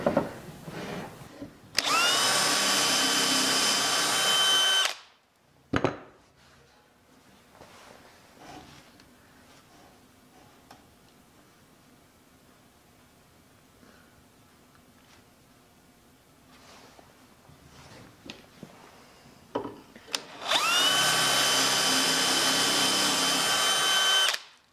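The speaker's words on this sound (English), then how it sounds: "So I've got all my holes drilled" A power drill boring holes in wood runs in two loud sustained bursts at the start and end, with quiet handling and light knocks in between.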